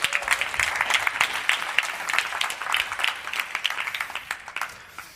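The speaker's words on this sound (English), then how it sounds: "Can you clap for that?" Moderate applause ripples through a lecture room audience, a patter of many hands with distinct individual claps standing out, fairly even in volume and thinning slightly toward the end.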